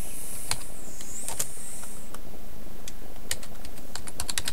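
Irregular bursts of computer keyboard keystrokes as a folder name is typed, close and moderately loud, with a faint high whine in the background and no speech.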